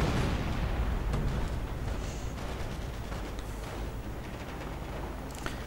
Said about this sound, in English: It sounds like the Goliath went off right here in the center.